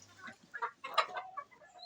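Chickens on a poultry farm, local and Sonali birds, cluck faintly in a few short, scattered calls against a quiet background.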